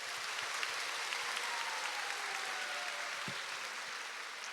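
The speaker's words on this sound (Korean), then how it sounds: "따뜻한 박수로 환영하겠습니다." A congregation at Dongsan Church in Ansan claps warmly during a Sunday morning service to welcome new members, steady dense applause filling the sanctuary throughout.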